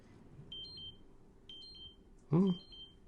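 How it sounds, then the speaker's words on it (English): Two-tone electronic beeps from a blood sugar monitor alarm sound in short repeated pairs, fairly close, with a brief burst of voice near the end. "That's my blood sugar alarm."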